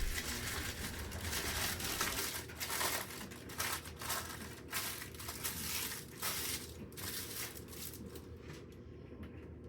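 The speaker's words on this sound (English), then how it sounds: "If you use parchment paper and you find that it keeps winding itself back up and won't lay flat, just crumple it up" Sheet of parchment paper crumpled by hand in a home kitchen, a continuous close crackling and crinkling that comes in uneven bursts and fades toward the end.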